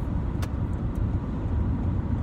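Steady road and engine rumble from inside a moving car, with a constant low drone, a couple of faint ticks, and no one talking.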